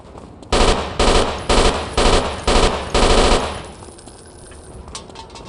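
Six heavy bursts of video game gunfire in quick succession, loud and close, each a short blast with an even rhythm, then quieter background noise.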